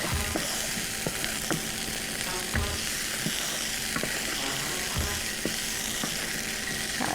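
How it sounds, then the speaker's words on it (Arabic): Chicken kofta sizzles in a pan as the pieces are turned, giving a dense, continuous frying hiss broken by several soft knocks and scrapes from the turning. "هرجع اقلب الكفته بتاعتي عشان تاخد اللون الاحمر الحلو ده من على كل الجهات بتاعتها"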